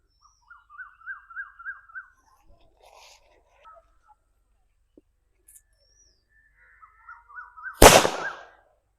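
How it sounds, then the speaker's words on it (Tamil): A country firecracker (nattu vedi) goes off outdoors with a single sharp, loud bang that cuts through quiet surroundings, preceded by several seconds of bird chirps and faint rustling. "நாட்டு வெடியோ இல்லை வேறு எந்த சைஸ் வெடியோ வெடிக்கும் போது"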